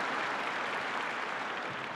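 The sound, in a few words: audience applause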